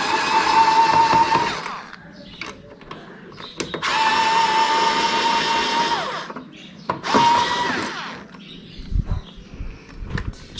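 A power drill whirs in three sustained bursts, loosening bolts on a machine base to get at a rubber damper, with clicks and handling knocks in the pauses between.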